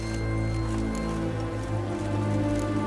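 Steady downpour of rain in The Witcher 3, a continuous dense patter with constant loudness throughout, mixed with low droning ambience and faint background tones.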